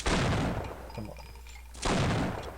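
Loud rapid gunfire from the first-person shooter Half-Life: Opposing Force, one dense burst at the start and another after a short lull, close and dominant.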